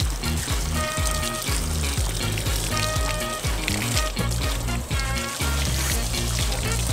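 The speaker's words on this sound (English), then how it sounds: "That's a lot of water pressure." Water sprays and gushes under high pressure near a 1991 Audi 80 Quattro, a continuous hissing, splashing rush with rhythmic pulses, fairly quiet and without talk.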